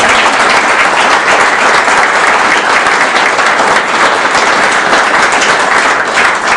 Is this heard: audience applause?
yes